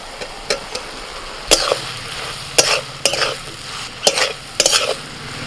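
Fried potatoes are stirred into a sizzling pan of spiced banana blossom. The spatula gives loud, close scraping clatters in uneven bursts over a continuous hiss of frying, with no voices.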